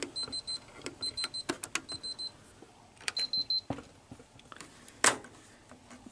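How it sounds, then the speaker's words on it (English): Short electronic beeps from a Sony EV-S2000 Hi8 VCR as its function buttons are pressed with no cassette loaded, repeated in quick irregular bursts with button clicks between them, close and clear. "when you press the functions when there is no cassette, it beeps"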